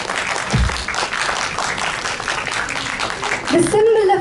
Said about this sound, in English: Another huge round of applause for our Secretary General.